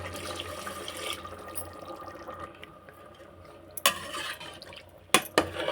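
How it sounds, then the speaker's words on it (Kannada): Water poured from a glass onto rice in a pressure cooker for pulao, a brief close splashing pour at the start, then quiet followed by a few sharp knocks and clatters. "1 ಗ್ಲಾಸ್ ಅಕ್ಕಿಗೆ 2 ಗ್ಲಾಸ್ ನೀರು ಹಾಕ್ತಾ ಇದ್ದೀನಿ."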